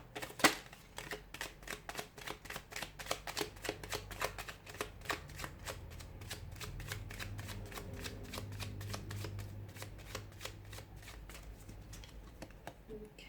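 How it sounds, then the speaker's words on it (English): Tarot cards being shuffled by hand in quick riffling bursts, a fast rhythmic patter of card edges that runs continuously and fairly close, with faint low background hum. "give the cards a shuffle"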